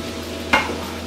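Chicken scarpariello ingredients cook in a large pan with onions and wine, heard as a steady close sizzle with one sharp scrape of a utensil stirring the mix.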